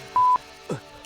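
Two loud, identical keypad tones a short moment apart as a telephone is dialed, followed by a brief murmur and a rising burst at the end.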